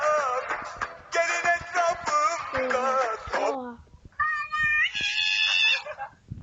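A cat meows repeatedly at close range, a series of loud, wavering yowls followed by a brief pause and a higher-pitched cry, with small clicks and bumps in between.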